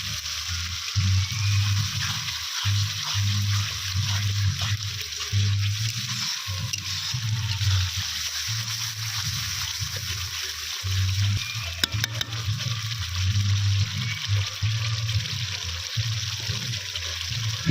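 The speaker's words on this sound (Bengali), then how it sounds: "অল্প পরিমাণে মশলাতে জল দিয়ে দেবো, দিয়ে মশলাটা নাড়তে হবে।" Water poured onto spices frying in a pan on a clay stove, giving a steady close sizzle with soft trickling and stirring scrapes throughout, a low hum running underneath.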